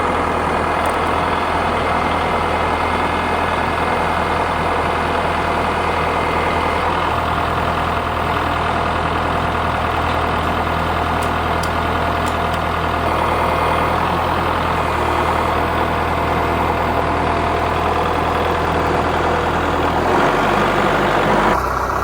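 A tractor engine runs steadily and loudly at a constant rumble while a load is lifted and carried in the air, with a slight change in tone near the end.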